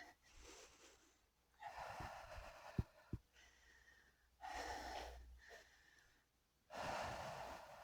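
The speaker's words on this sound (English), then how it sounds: "Big breath in. Exhale." Deep workout breaths, slow inhales and long exhales alternating in several close, fairly quiet rounds, with a couple of sharp thumps partway through and no talking.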